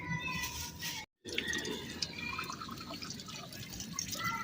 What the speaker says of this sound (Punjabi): ਇਹਨਾਂ 'ਚ ਨਾ ਹੁਣ ਪਾਣੀ ਪਾ ਕੇ ਮਿਕਸ ਕਰਕੇ ਤੇ ਲਗਾਉਣਾ ਸ਼ੁਰੂ ਕਰ